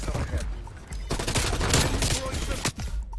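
XM4 rifle fire in Black Ops Cold War comes as loud, dense automatic bursts with a short pause near the end, close and dominant throughout.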